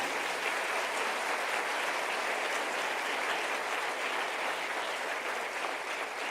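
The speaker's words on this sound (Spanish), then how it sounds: "Denle un aplauso al Señor." Church congregation applauding during a sermon, a dense, even roar of clapping that holds steady and loud throughout with no talking over it.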